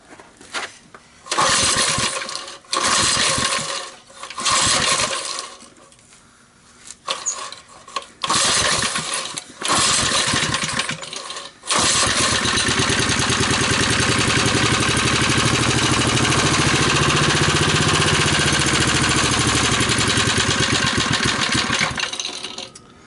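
A 3 hp Briggs and Stratton engine on an ARCO mini bike, fed starting fluid, sputters through several pull attempts in short bursts, then catches and runs loud and steady for about ten seconds before cutting out.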